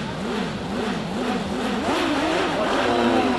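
Race car at the Jaguar Simola Hillclimb, restarted after a stall and revving away: a close, steady engine note that rises and falls in repeated rev sweeps and grows louder toward the end.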